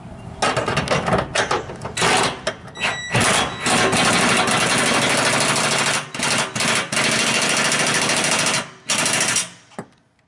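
Ryobi cordless impact tool with a 9/16 socket driving bolts into beams, loud and close, hammering in long sustained bursts broken by brief pauses and a few short blips.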